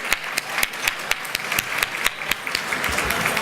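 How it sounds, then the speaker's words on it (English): Applause for the Chamber at the inaugural Better Beach Awards: sharp, evenly spaced claps from a nearby clapper over thinner clapping from a small crowd, moderately loud. "let's give a big round of applause to the Chamber for putting on our very first Better Beach"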